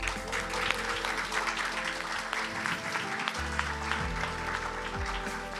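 At a Web3 technology conference in Split, Croatia, a conference audience applauds in a moderate, continuous patter, with a low electronic hum and tonal background sounds running underneath.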